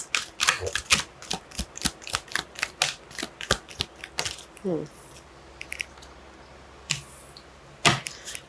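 Tarot cards are pulled one after another from a deck, making a rapid series of crisp, close snaps and flicks that slow into a few sparse clicks with quiet gaps.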